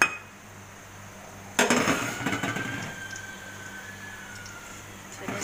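A utensil clinks and scrapes inside a cooking pot of slow-braised beef for yakhni pulao, a sudden clatter followed by softer stirring and scraping noises, close by, with a steady low hum underneath.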